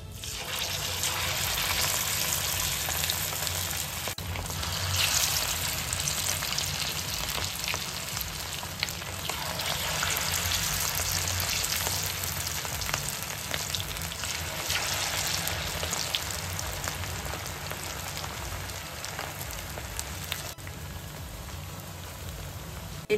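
Food frying in hot oil in a home kitchen gives a steady, dense sizzle with crackling pops throughout, fairly close and unbroken by speech.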